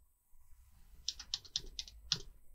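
Fingers type on a computer keyboard while coding a web page, a quick run of crisp key clicks in uneven rhythm, close but quiet, with no talking.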